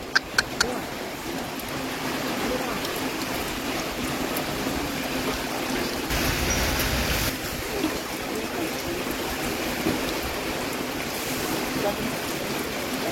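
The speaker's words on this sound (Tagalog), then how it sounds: "Lakas ang ulan, guys." Heavy rain pours down steadily and loudly throughout, a dense broadband hiss with a brief surge midway, while people talk faintly in the background.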